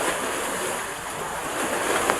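Sea waves washing in at high tide along a shore, a steady broad wash of surf mixed with gusting wind noise, fairly loud and continuous with no voices.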